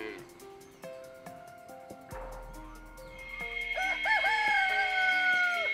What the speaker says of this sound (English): My least favorite part has been the roosters.